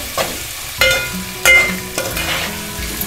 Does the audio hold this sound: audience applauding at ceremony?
no